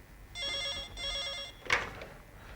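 An old-style telephone rings with two short trilling bursts over low room noise, moderately loud and nearby, followed by a sharp click like a receiver being lifted.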